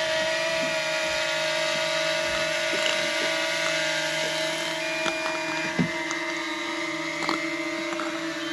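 Drone hovering near a fishing boat on a lake, a steady whining motor drone with a constant pitched hum and faint ticks and knocks on top, continuous and fairly close, with no talking.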